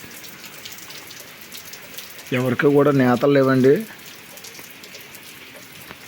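Steady rain hisses through the whole stretch outside a handloom weavers' area, a broad soft patter heard throughout, with a voice talking over it in the middle.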